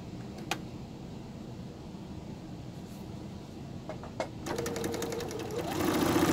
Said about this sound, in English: What I like to do is go ahead and do one straight seam all the way across, and I use the width of my presser foot